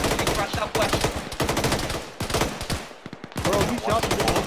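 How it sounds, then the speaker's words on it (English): Bursts of heavy machine gun fire from an MT-LB armored vehicle in Arma, loud and close, rattling in rapid strings with brief gaps between bursts. "Taking aggressive fire from an MTLB southwest."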